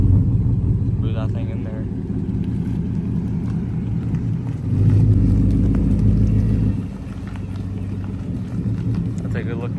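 A 2024 Mustang GT with muffler delete and H-pipe, non-active exhaust, on a warm start: a deep, loud rumbling idle that swells into a heavier burst midway, then settles back, with someone talking over it.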